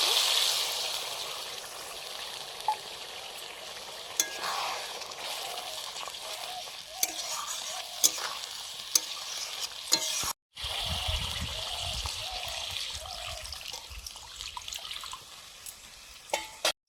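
Water poured into a pan of frying spice paste for a Bengali fish curry, a steady sizzling hiss with stirring scrapes that cuts off abruptly, then a lower bubbling simmer resumes with occasional clinks of the spoon.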